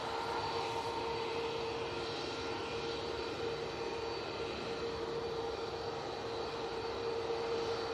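A departing airliner at Manchester Airport roars steadily and loudly for the whole stretch, a broad continuous engine rumble with no speech over it.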